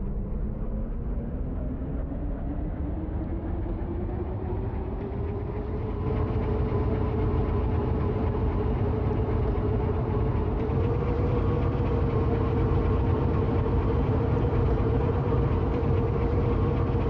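A video game train engine's steady, low drone rumbles continuously while climbing a hill, rising slightly in pitch partway through as it strains under load, with no voices.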